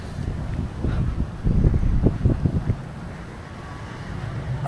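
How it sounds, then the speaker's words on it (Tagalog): Gusty wind buffets the microphone outdoors in drizzle in Singapore, rumbling low and loud in surges, strongest in the middle, with a steady whooshing background. "Lakas ng hangin."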